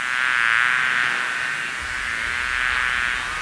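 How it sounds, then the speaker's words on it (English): Honeybees inside their hive give off a dense, continuous buzzing hum, steady and close, with no voices over it. "Now let's take a listen to these honeybees."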